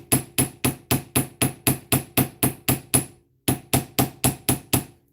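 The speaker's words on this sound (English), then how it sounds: "I like to come through with my ball peen hammer" A ball peen hammer strikes wire to texture it in a loud, close, even rhythm of sharp metallic blows about three per second. The blows pause briefly, then resume at the same pace.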